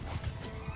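Horse in the video game Bannerlord, a short in-game neigh or whinny with faint hoof clip-clop amid busy battle ambience, heard close and brief.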